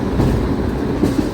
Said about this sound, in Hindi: अपनी ट्रेन जो है ऑन राइट टाइम शाम के 4:35 पर सिकंदराबाद जंक्शन रेलवे स्टेशन से डिपार्ट करती हुई